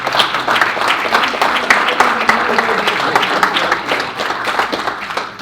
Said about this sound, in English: give Al a round of applause